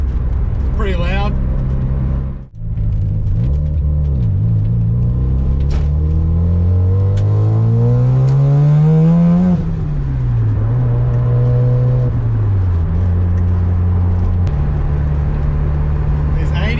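A 13B turbo rotary-engine car driven with the window down: a loud, steady buzzing engine note rises as it revs up through the gears, drops back, then settles into a cruise under wind noise, with a brief dip near the start.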